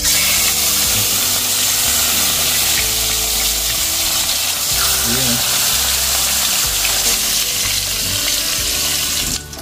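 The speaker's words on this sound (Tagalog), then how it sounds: "Prito na natin tong ating mga isda." Loud, steady sizzling and crackling of fish frying in oil filling the whole clip, with faint background sounds mixed in, close to the pan.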